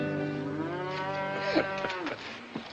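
Cattle moo loudly and close by, one long drawn-out low call bending in pitch, followed by shorter overlapping moos from nearby animals, with no talking.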